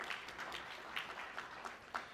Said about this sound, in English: So give yourselves another round of applause for being part of the ninth.